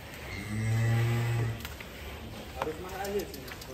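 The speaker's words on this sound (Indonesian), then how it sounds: "ini sapi maskot dari Lembu Muda 2000 Farm" A huge bull, a farm's mascot weighing around a ton, lets out one loud, close, deep moo lasting about a second, followed by people talking nearby.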